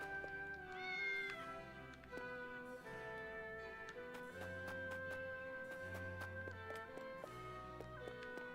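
A cat meows in the video game Triangle Strategy, short soft mews set against a quiet, steady game music score, with no talking.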